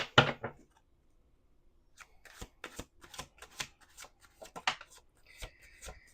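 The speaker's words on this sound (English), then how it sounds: "1 more shuffle." Tarot cards are shuffled close up: a quick riffle at the start, then a pause, followed by a series of crisp, irregular slaps and flicks.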